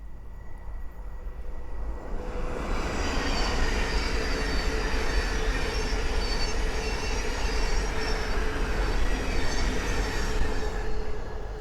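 A Thameslink Class 700 train on the East Coast Main Line at Great Wymondley rushes past, building quickly from near silence into a loud, sustained roar of wheels and rails that holds to the end.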